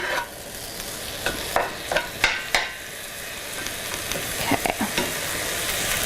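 Meat filling for stuffed rolls fries in an oiled pan, a steady close sizzle broken by several sharp scraping stirs in two short bursts, with no talking.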